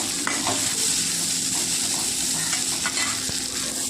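Chopped bitter gourd sautéing in a pan, with a steady close sizzle and soft scraping stirs throughout, no voices.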